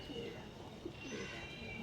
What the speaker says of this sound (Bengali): আজকে এটা হচ্ছে মাদা পায়রা অরিজিনাল টিপলার